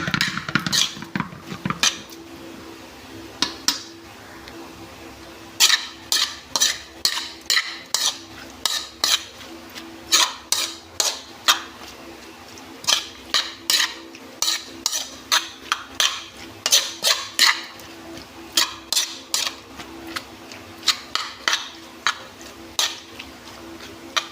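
A raw milkfish salad (kilawing bangus) is stirred in a bowl, with repeated clinking of a utensil against the bowl in quick irregular bursts, close and fairly loud, with short pauses between.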